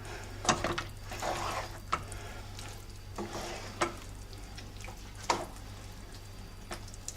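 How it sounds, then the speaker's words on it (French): Gorgonzola being stirred into hot risotto: soft, sticky scraping and squelching of the spoon through the rice, with a few louder knocks against the pot, faint and close, no talk. "Donc vous mélangez jusqu'à ce qu'il soit bien fondu."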